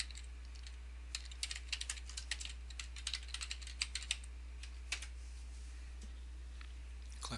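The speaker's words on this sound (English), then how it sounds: "He types the work order number in the description field." Fingers type a work order number on a computer keyboard, irregular light clicks and keystroke clusters close by over a steady low electrical hum, no voices.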